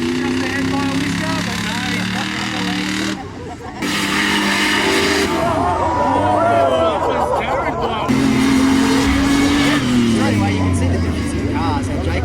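Cars revving and racing down a drag strip at an off-road rock crawling event, engines roaring and shifting pitch up close, with crowd chatter and talking underneath throughout.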